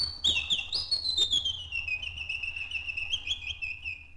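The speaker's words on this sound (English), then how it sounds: "the birds sang" Birdsong in a spring garden, a single high sliding whistled trill that warbles and drifts downward, bright and prominent over a faint low hum, with no voices.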